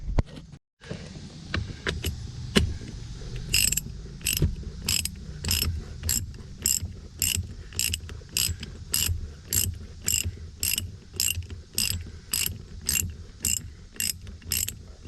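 A ratchet wrench clicks in a fast, even series of loud close bursts while Koni rear shocks are fitted to a 1989 Mustang GT, after a few scattered tool knocks at the start, no talk.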